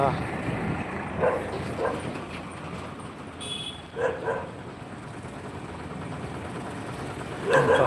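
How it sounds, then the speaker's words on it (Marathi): Several dogs at a petrol pump yelping and barking in short bursts at moderate distance, over a constant background rumble of traffic. "अरे कुत्र्यांनी तर लय गर्दी केलेली"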